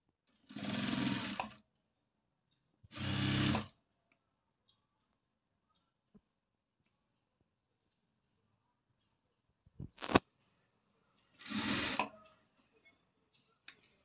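Sewing machine stitching a low-neck princess-cut blouse with a hook panel, running in three short loud bursts of about a second each, separated by pauses with faint clicks and handling sounds.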